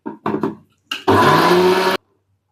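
A mixer grinder runs in a loud, steady burst of just under a second, grinding coconut chutney with a little water added, after a few spoken words.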